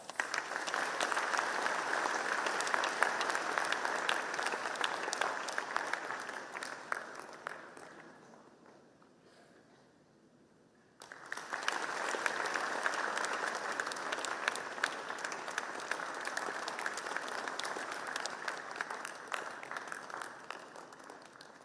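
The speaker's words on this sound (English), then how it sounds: "Let's give a round of applause." Sustained audience applause at a college freshers' induction programme, dense and steady, briefly dying down to near silence before a second full round of clapping resumes; no talking over it.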